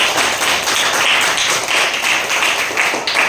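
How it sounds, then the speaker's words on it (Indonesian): An audience at a classroom performance assessment claps in a brief, dense burst of hand claps that stays loud and even throughout. "tepuk tangan kembali"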